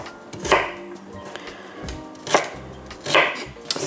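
A knife cutting carrots into quarters on a board, three or four distinct sharp chops spaced out over a few seconds, close and clear with no talking.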